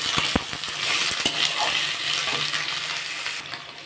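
Beans, potato and tomato fry in a pan for a pumpkin-greens chorchori, with a steady sizzle. Several sharp metal clinks come from a spoon stirring against the pan.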